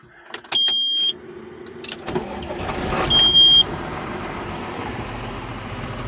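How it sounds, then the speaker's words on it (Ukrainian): A John Deere 6610 tractor engine cranks and fires up in a field during a repair, with two brief electronic beeps, then settles into a steady, close idle rumble. "Так, друзі, заводимо."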